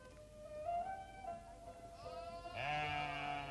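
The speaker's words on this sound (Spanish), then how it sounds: "Esta familia cuida de un rebaño de unas 300 ovejas y cabras" Sheep and goats from a herd of about 300 kept by a nomadic family bleat several times, wavering calls overlapping at moderate distance, with a louder, closer bleat near the end.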